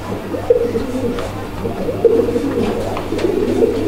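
Pigeons coo close by in repeated low, rolling calls overlapping one another, with a steady low hum underneath.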